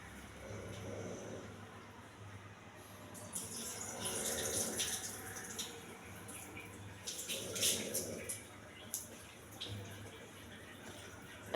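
Millets are rinsed in a bowl of water by hand, soft sloshing and splashing in several bursts with quiet gaps between, faint and close.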